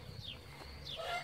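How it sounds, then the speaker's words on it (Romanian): Brahma hens in a backyard coop let out soft, brief clucks and chirpy calls, fairly close but modest in level, over a low outdoor rumble. "Aici sunt găinușele noastre"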